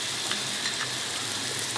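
Chili sambal with squid frying in a pan gives a dense, steady sizzle up close with light stirring scrapes and no talk.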